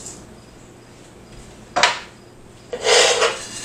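Cumin and coriander seeds toasting in a hot frying pan, a quiet hiss broken by two bursts of scraping and rattling as the seeds are stirred and tossed.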